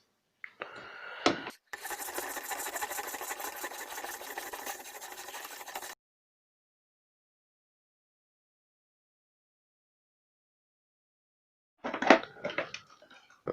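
A knife is sharpened on an Apex Edge Pro clone sharpener. The stone gives close, rapid rasping strokes for several seconds, then a long silence, then a brief scraping burst.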